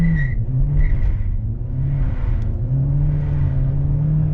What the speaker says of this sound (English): I'm gonna floor it now.